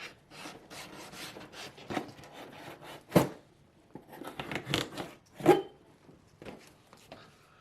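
A small knife slices open a package in quiet, scratchy rubbing and rasping strokes, with a few sharper tearing bursts in between, close and soft.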